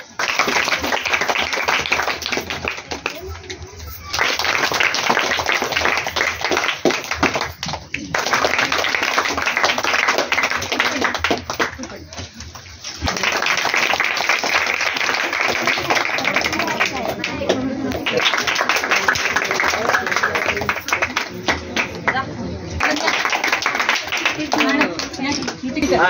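Audience clapping at a children's Diwali gathering, steady dense applause in long stretches with short pauses between bursts, mixed with voices and chatter throughout.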